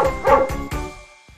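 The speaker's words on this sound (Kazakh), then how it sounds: "ит" A dog barks three quick times in a row, close and fairly loud, followed by a faint short yelp before quiet.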